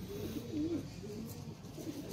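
An Anjan pigeon on a rooftop coos softly nearby, a low warbling call repeated a few times over a faint background hum.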